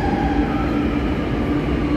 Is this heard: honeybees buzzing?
no